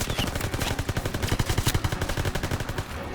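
Video game gunfire, rapid bursts of shots piercing through steel, a fast rhythmic string of loud cracks running for about three seconds before trailing off.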